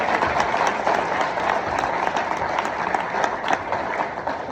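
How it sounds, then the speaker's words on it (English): Audience applause for panelists at an evening panel event, a steady dense clapping from a roomful of people lasting several seconds with no voices on top. "So I want to give another round of applause and thank our panelists for tonight."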